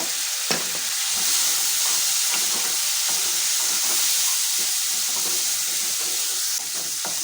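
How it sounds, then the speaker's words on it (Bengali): Soya chunks sauté with turmeric, salt and spices in a pan, giving a loud, steady sizzle and hiss with scraping stirs throughout, close up and without talk. "ভালো করে কষিয়ে নিয়েছি"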